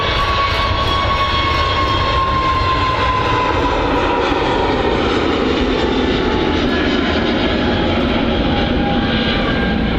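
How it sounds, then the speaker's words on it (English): An Airbus A320neo jet on its takeoff roll at Manchester Airport gives a loud, continuous engine roar that holds steady and dominates the whole stretch. "A320 Neo on the roll."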